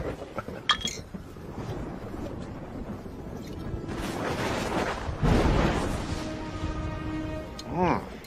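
Glasses clink briefly in a toast amid talk and background noise, followed by a louder rumbling crash and a ringing metallic tone near the end.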